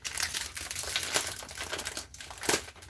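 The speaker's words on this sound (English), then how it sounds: "I'm going to open these noodles" A plastic noodle packet is crinkled and torn open at close range, with sharp irregular crackling bursts and a louder rustle near the end, no talking.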